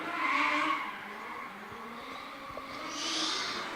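A Nissan S14 drift car with a 700-horsepower 2JZ engine and no front bumper, at a D1NZ pro-sport qualifying round in Tauranga, slides with a distant tire screech and engine roar that swells at the start and again near the end.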